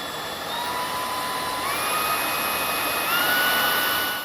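A Samsung Bespoke Jet AI cordless vacuum cleaner running at its highest suction setting, a loud, steady whirring roar with a high whine that rises slightly partway through, continuous and alone.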